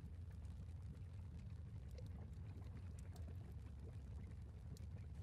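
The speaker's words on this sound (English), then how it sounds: "It's just more water splashing in" Water splashing and pouring into collapsed underground caverns in the Dwarf Fortress video game, a faint, steady low rumbling wash that runs continuously without a break.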